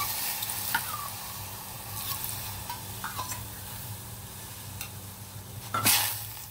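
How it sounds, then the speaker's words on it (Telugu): Soaked sago and water go into a pot on a stove while cooking sago payasam: scattered soft clinks and splashes over a steady low hum, with a louder clatter near the end. "కొంచెం వాటర్ వేస్తున్నానండి ఇవి ఉడకడానికి"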